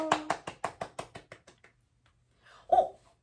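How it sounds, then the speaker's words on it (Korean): Hands clap in a steady run of about ten crisp, evenly spaced claps that gradually soften and fade, followed after a pause by a short voiced sound, at a classroom math lesson. "박수!"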